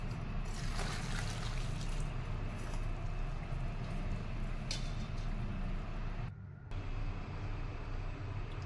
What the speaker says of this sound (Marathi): त्यातलं आता पाणी आपण काढून घेणार आहोत।